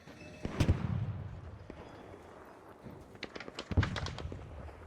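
Scattered distant gunshots in the video game Arc Raiders, a few sharp pops spread across the clip over a low, steady background.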